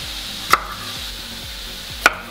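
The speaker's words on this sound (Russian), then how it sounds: "Перчик нарезаем кубиком" Bell pepper being diced into cubes on a cutting board, two separate knife chops landing over a quiet background.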